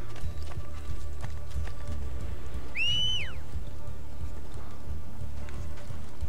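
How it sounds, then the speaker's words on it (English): In Assassin's Creed Brotherhood, a short rising-and-falling whistle calls a horse, with steady hoofbeats and a constant rainy outdoor ambience behind it. "Oh, I whistled for my horse."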